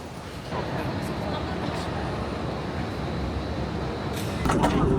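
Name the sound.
airport satellite train at Suvarnabhumi Airport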